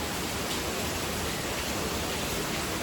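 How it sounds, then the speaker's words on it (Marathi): Steady rain falls as an even, dense hiss that stays constant throughout, with no voices heard. "फायनली पाऊस आला."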